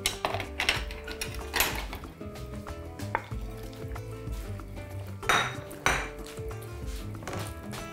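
Metal pot and lid clanking and clinking over a simmering stew of lamb, quince, red wine and beef broth, with several sharp knocks and rattles standing out from steady kitchen clatter.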